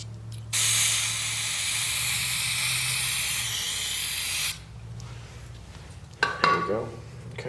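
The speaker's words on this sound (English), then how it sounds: "So I got some carb cleaner here. I'm just gonna spray a little bit in and just blow it out." Carb cleaner sprayed into a flooded leaf blower, then blown out: a loud, steady aerosol hiss running about four seconds, followed by quieter rustling and a brief burst of blowing air near the end.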